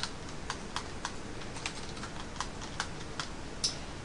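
Steady typing on a computer keyboard while keying in an invoice: light, fairly even key clicks in a quick run, close and clear, over faint background hiss.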